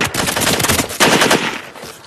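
Soldiers fire blindly in loud, continuous automatic bursts of gunfire, dense and close, filling the whole moment.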